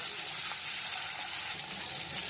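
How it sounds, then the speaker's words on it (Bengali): Pomfret fish frying in hot oil in a wok, a dense, steady sizzle and crackle heard up close with no voices. "আমি মাছটা একটু লাল লাল করে ভেজে নেব।"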